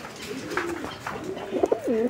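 Frillback pigeons held for sale coo softly and close by, a low rolling coo building to a few throaty, warbling notes over a faint background hum.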